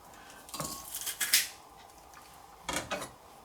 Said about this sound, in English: it just does that instant job of crushing the garlic